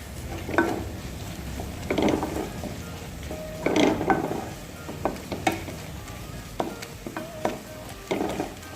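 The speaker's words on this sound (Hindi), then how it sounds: "चलाते रहेंगे चम्मच साथ में।" A spoon stirs ginger, garlic and spices roasting in a pan, with a steady sizzle under repeated scraping and clinking strokes, close and fairly loud, and no talk.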